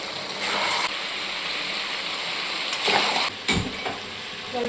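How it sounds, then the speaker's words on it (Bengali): Meat sautéing in a pan over a raised gas flame, a loud, steady close sizzle with occasional scraping stir strokes and brief breaks; no talking. "গ্যাসের ফ্লেমটা একটু বাড়িয়ে দিয়ে কষাচ্ছি"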